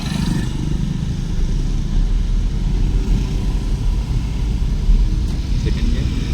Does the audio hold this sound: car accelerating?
yes